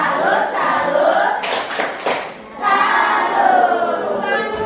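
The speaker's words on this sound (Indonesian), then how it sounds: "Kalau gitu beri tepuk salut dulu yuk." Primary-school class in a sixth-grade classroom doing a short rhythmic 'tepuk salut' clap routine, a few brisk bursts of clapping between chanted children's voices.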